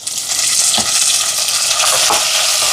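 Tomatoes sautéing with garlic in a hot pan, a loud, close, dense hiss with a couple of brief stirring scrapes, no voices.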